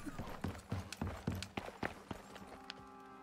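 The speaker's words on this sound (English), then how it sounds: "Oh, the horse is getting hurt again." Horse hooves clip-clop in a steady, even rhythm in the game Icarus, close and moderately loud, fading as a sustained tonal in-game hum comes in toward the end.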